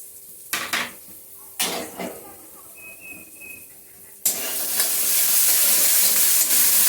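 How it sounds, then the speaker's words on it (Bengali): A ground mix of cumin, coriander, puffed rice, turmeric and sugar goes into a pan with a few sharp clatters of a utensil. Then a sudden loud, steady sizzle starts and keeps going up close, with no talking. "একটু জল দিয়ে মশলাটাকে ভাজবো যাতে পুড়ে না যায়"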